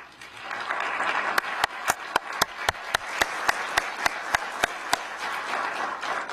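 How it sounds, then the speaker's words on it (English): An audience claps for Police Foundation members standing at a police command college graduation ceremony: a steady, moderately loud wash of applause cut through by a run of sharp, evenly spaced clicks. "Give them a round of applause."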